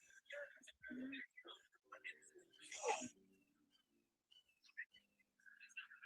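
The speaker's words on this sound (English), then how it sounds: "Oh, listen to that hawk." A hawk squeals in a few high, thin cries scattered among close, ongoing talk and small household noises.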